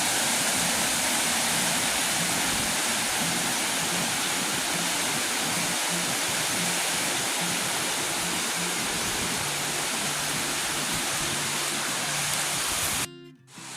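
A river running high and fast the day after heavy flooding, a loud, dense, continuous rushing roar of water that holds steady throughout before breaking off abruptly at the very end.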